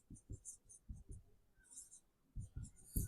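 Chalk or marker writing on a board during a class 10 chemistry lecture, quick clusters of faint scratchy taps and strokes with brief pauses, soft and close.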